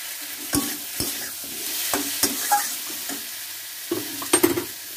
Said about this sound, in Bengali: এটাকে ভালো করে একটু হালকা করে নাড়াচাড়া করে নেব।